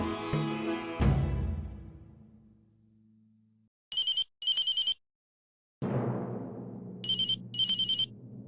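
A telephone rings for an incoming call with two bright double-pulse rings a few seconds apart, set against swelling dramatic music in a TV drama scene, with no talking.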